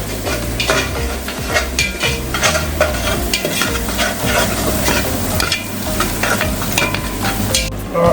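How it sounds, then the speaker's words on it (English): Garlic and onions frying in olive oil sizzle loudly while a spoon stirs and scrapes the pan in repeated rhythmic strokes, close-up with no speech. "I'm just going to add the garlic to it now. Stir that up, a bit more olive oil."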